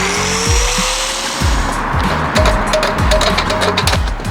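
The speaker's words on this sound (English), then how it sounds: "using the grinder." An angle grinder cuts at an MX5 Miata to free its engine, whining loudly with repeated bursts and rhythmic pulses of metal cutting.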